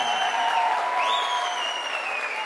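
Wedding guests applaud loudly at a celebration with a horon dance show, a dense burst of crowd clapping that continues steadily, while a sustained melodic instrument tone plays underneath.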